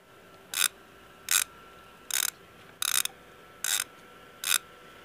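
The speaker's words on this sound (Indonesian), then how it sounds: "Kita kendorkan terlebih dahulu dengan menggunakan obeng plus." A Phillips screwdriver loosens the screw on a laptop's bottom cover, giving six short, crisp ratcheting bursts at an even pace, close up and alone with no talking.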